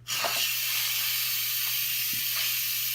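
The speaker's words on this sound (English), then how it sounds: "our potatoes are done in the Instant Pot. What we're gonna do is we're gonna release that pressure" Steam hisses out of an Instant Pot releasing pressure after cooking potatoes, a sudden loud onset settling into a continuous close, bright hiss that holds steady for the whole stretch, with a faint low hum beneath.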